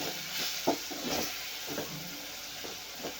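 A spoon stirs red chili powder into toor dal with brinjal in a pot, giving soft, repeated wet scrapes and swishes over a faint, steady sizzling hiss.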